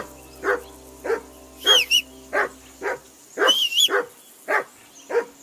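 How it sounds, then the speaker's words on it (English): Repeated dog barks from a game dog in Kingdom Come Deliverance II, about nine sharp woofs in an uneven rhythm, close and fairly loud, some with a yelping edge, over a low background hum. "That barking was a pain in the ass."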